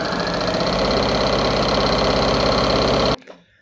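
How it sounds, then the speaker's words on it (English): A sewing machine stitches a rag quilt in one steady, loud, fast mechanical whir for about three seconds, then stops abruptly with a brief rattle. "And then I can line up over here and I just start sewing."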